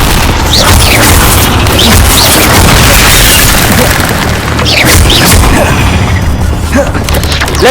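Loud booming blasts and crashing impacts from the Incendio fire spell in the PS5 game Hogwarts Legacy fill several seconds of dense combat noise, with brief shouted voices mixed in.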